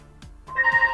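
A telephone rings in a short electronic trill of rapid pulsed tones, close and fairly loud, with no talk over it.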